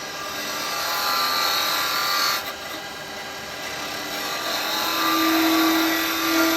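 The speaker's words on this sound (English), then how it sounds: "this one we'll do with a spindle gouge" A spindle gouge cuts wood on a lathe while shaping a snowman hat, a steady broadband shaving and rasping hiss that runs continuously and close, with a brief dip partway through and a low hum appearing near the end.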